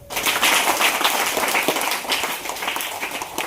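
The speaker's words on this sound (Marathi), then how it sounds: "याच्यासाठी टाळ्या वाजवा" A class of schoolchildren in a school classroom applaud a pupil, dense rapid clapping that stays steady and loud from start to finish with no talk.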